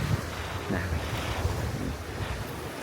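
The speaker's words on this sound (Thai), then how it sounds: "นั่งมองทะเลไป ฟังเสียงคลื่นไป" Sea waves wash steadily onto the beach at Hat Samae San, Thailand, a continuous surf roar with wind buffeting the microphone and no voices.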